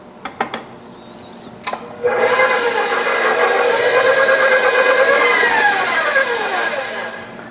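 Lemon bar batter being mixed by an electric mixer that starts after a few knocks, then runs loud and steady for several seconds, its pitch shifting slightly as it works the batter.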